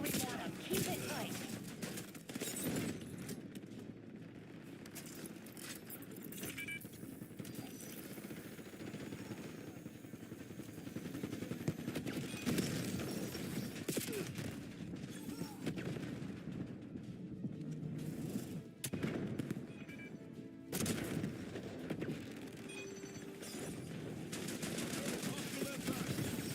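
Automatic and single-shot gunfire in the video game Call of Duty Black Ops 7, dense, loud bursts running almost continuously with brief gaps, mixed with game effects and a sense of a busy battlefield.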